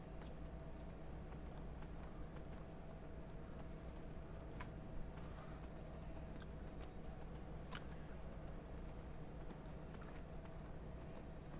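Horse hooves clip-clopping steadily while riding in Skyrim, a quiet, even rhythmic patter over a low background hum, heard alone without talk.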